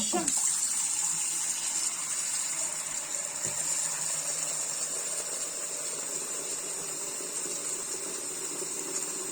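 Lukewarm tap water pours steadily into a plugged basin, making a continuous close gushing rush that holds level throughout, with no talk.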